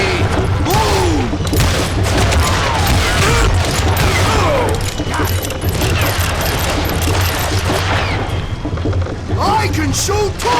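Gunfire in the Western shooter game Call of Juarez Gunslinger: a dense, continuous barrage of shots and booms lasting throughout, loud and close, layered with voices and game effects.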